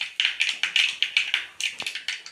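Mustard seeds spluttering and popping in hot oil in a pan, a rapid, fairly close run of sharp crackling pops that keeps going steadily, heard on its own with no talk.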